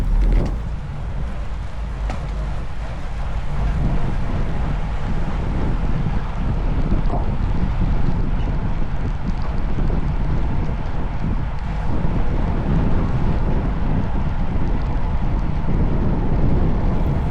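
Strong side wind roars and buffets the microphone of a cyclist during a road race, a constant low rumble, steady and loud for the whole stretch with no voices.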